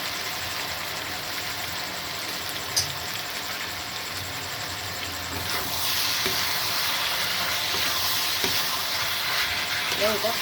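Chili chicken sautéing in a pan with chili sauce and soy sauce, a continuous sizzle with stirring scrapes that grows louder and fuller midway, occasional clinks, brief talk faintly underneath.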